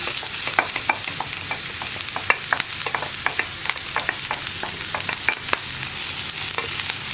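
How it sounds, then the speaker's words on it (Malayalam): Ginger, green chili and onion sautéing in coconut oil for an egg roast, a steady crackling sizzle with frequent sharp clicks and scrapes of stirring, close and even throughout. "ഇതെല്ലാം ചേർത്ത് നന്നായിട്ടൊന്ന് വഴറ്റിയെടുക്കുക."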